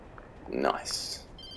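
A telephone rings in the Alan Wake Remastered video game, a bright electronic trill rising briefly over a voice and the background din, fairly faint and short.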